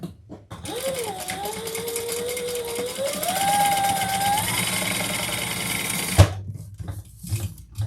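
A sewing machine runs steadily while topstitching the bottom of a fabric bag, its motor whirring with a rising, shifting pitch for about six seconds before stopping abruptly, followed by a few quiet handling knocks.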